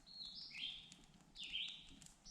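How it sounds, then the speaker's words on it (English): Songbirds call outdoors on an evening at an off-grid rural property, two clear rising-and-falling whistled phrases with a pause between them, faint over quiet background hiss. "Birds singing."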